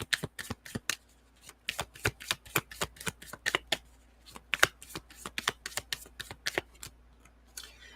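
Moonology Oracle cards being shuffled by hand in a quiet room, a steady run of crisp riffling flicks and soft slaps repeating for several seconds, close and fairly faint.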